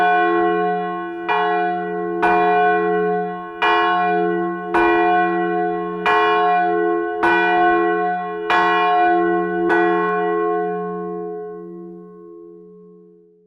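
The bell of St Mary Woolnoth, a London church, strikes the hour in nine slow, resonant strokes spaced about a second and a quarter apart, each ringing on with a low hum and fading out after the last.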